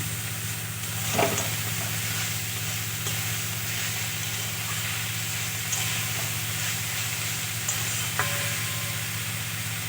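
Mustard greens cooking with garlic and green chilli give off a continuous close sizzle, with occasional soft scrapes and taps of stirring scattered through, and no voices.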